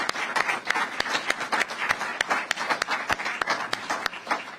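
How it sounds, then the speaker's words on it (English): Audience applause for the governor and state troopers at a Tampa news conference, a steady patter of many hands with sharp individual claps standing out, moderately loud and continuous throughout. "give the governor and these troopers a round of applause"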